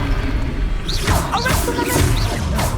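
Spell cast in Hogwarts Legacy, heard as a series of bright whooshing, crackling bursts with a sharp magical snap over a steady low game soundscape, repeated about three times in quick succession.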